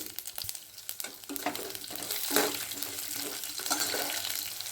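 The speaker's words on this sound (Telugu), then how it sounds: "మినపప్పు శనగపప్పు ఆవాలు ఎండుమిర్చి కొద్ది జీలకర్ర పోపు వేయించుకోవాలండి" Urad dal, chana dal, mustard seeds, dried red chillies and a little cumin sizzle in hot oil for a tempering, a soft steady frying hiss with occasional stirring clatter, close by.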